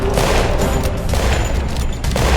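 Dense, continuous gunfire in the Roblox game Westbound during a train robbery, loud and sustained throughout, with a heavy low rumble underneath.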